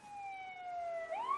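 An ambulance siren wails nearby, a clear, loud tone falling slowly and then sweeping sharply upward, heard alone without talk.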